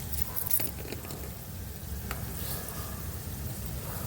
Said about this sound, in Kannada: ನೋಡಿ ಗಾಯ್ಸ್, ಇದು ಫ್ರೈ ಆಗ್ತಾ ಇದ್ದಾಗೆ ಸಾಸಿವೆ ಹಾಕೋತಾ ಇದ್ದೀನಿ.